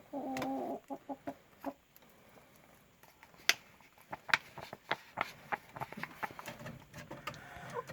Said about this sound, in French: notre coq s'appelle Elvis parce qu'il chante